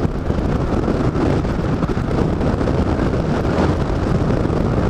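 Strong wind roars steadily into the microphone during a ride on a Yamaha Majesty scooter, a loud continuous buffeting rumble that fills the whole clip with no voices.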